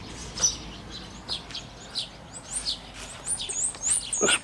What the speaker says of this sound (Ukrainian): шпаки поють там